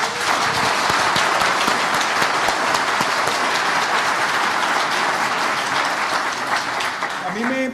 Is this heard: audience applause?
yes